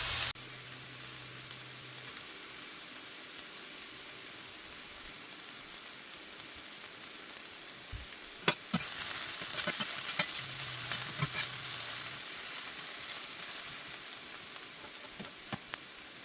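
Salmon patties fry with onions and peppers in a cast-iron Wapak Indian No. 9 skillet, giving a steady, even sizzle with a few faint clinks and bumps and no talking.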